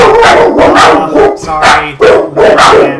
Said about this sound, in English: My dog was in bed earlier.